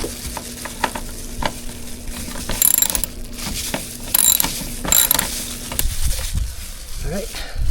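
A ratchet wrench clicks in short bursts while loosening 10mm tail light bolts on a car, quick metallic ratcheting runs separated by pauses, close and fairly loud.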